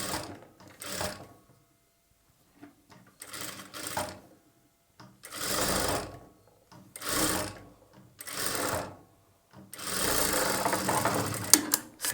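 A sewing machine stitches blouse sleeves onto the body piece of a plain blouse in several bursts of rapid whirring, broken by short pauses as the fabric is adjusted.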